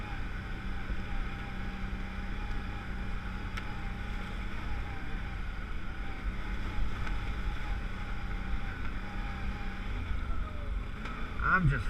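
An ATV engine runs with the throttle feathered on a trail ride, giving a steady low drone with slight rises and falls, mixed with wind noise and a faint voice near the end.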